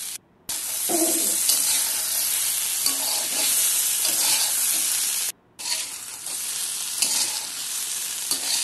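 Pumpkin pieces sizzle in a pan while frying in a village kitchen, with a steady loud hiss, a brief drop-out near the start and another midway, and faint stirring clinks underneath.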